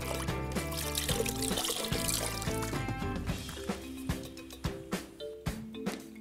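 Clear water trickles and sloshes as a cloth wipes grime off a caravan window, with close wet dribbles and drips that fade into separate splashy pulses toward the end.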